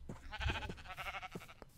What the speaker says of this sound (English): around this mountain there's a whole bunch of sheep